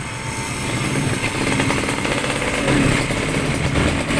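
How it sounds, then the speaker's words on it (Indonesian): A Suzuki F1ZR two-stroke motorcycle engine idles close by, a fast, rattly buzzing putter held at an even, loud level with no voices. "Oke, motornya udah nyala. Motornya udah nyala ya."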